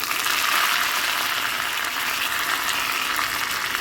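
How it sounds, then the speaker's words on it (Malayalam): Green chillies and curry leaves sizzling in hot oil with crackled mustard seeds for a yam-flower (chena poovu) curry, a loud, steady crackling hiss that runs unbroken throughout with no voices. "ഇനി പച്ചമുളക് ഇടാം. കുറച്ച് കറിവേപ്പിലയും കൂടി."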